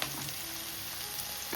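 Onions sauté in a pan for Kerala beef kappa biryani, a faint, steady sizzle with a few soft stirring scrapes and no talking.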